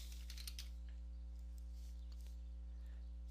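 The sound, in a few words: typing on a computer keyboard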